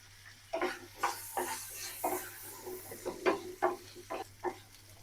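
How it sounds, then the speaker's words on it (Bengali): Potatoes fry in a little oil with turmeric in a frying pan: a soft continuous hiss runs underneath while repeated spatula scrapes and sizzling bursts come in a quick, uneven rhythm, close by and without speech. "ফ্রাই প্যানে একটু তেল দিয়ে দেব,"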